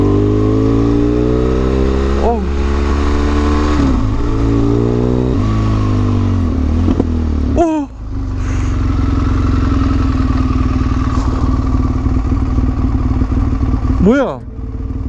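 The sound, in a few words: motorcycle on a deserted road turning around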